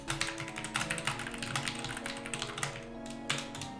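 Rapid, uneven keystrokes on a computer keyboard while a Discord message is typed during a game, the clicks close and fairly soft over a steady low game-music background.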